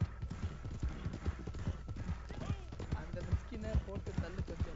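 Horse hooves clip-clop in a quick, steady rhythm across the whole stretch in Red Dead Redemption 2, close and moderately loud, with game sounds layered over the hoofbeats.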